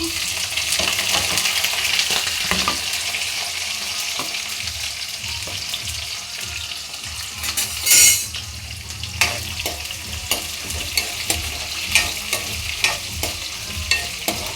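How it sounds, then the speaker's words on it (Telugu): Chillies and chopped onion sizzle loudly in hot oil with mustard seeds, a steady close crackle broken by stirring scrapes and a sharp spatter burst midway. "మిర్చి ఉల్లిగడ్డ వేసేసుకుంటాము"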